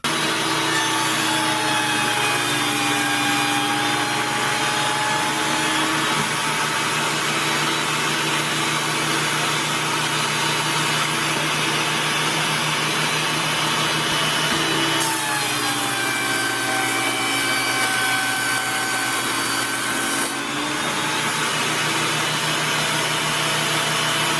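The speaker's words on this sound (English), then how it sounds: "I'm going to face these off in my planer just enough to assure that I have a nice 90-degree angle on both sides of my fence" A planer facing off wooden bandsaw fence boards runs as a steady, loud mechanical roar throughout, with a brief shift in tone partway through as a board passes the cutter; no one speaks.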